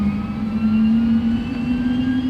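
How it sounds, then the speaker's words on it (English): A wartime bomber aircraft takes off, its engines droning as one steady, loud, low hum that rises slightly in pitch, with a faint whine above it and no voices. "They taxied, took off, and flew north towards Scotland."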